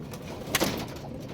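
A pigeon gives a soft, brief coo amid faint background noise, one short call near the middle of a quiet stretch; roughly 25 birds are kept nearby.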